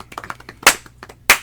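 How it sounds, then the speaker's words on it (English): A small group seated in a circle claps hands, a few scattered quick claps followed by two loud, sharp bursts of clapping close to the microphone. "Round of applause."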